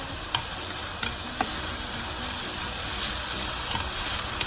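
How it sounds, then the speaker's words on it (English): Crispy noodles for a Vietnamese combination stir-fry (mi xao gion) are stirred with green onion in a hot pan, giving a steady close sizzle and hiss with a few light scraping clicks. "stir that center, stir around, and put some green onion."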